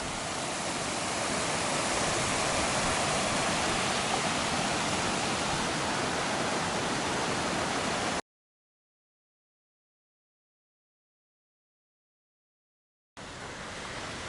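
A cascading mountain stream on the Pacific Crest Trail rushes loudly and continuously close by, a dense wash of water noise broken by a few seconds of silence before resuming.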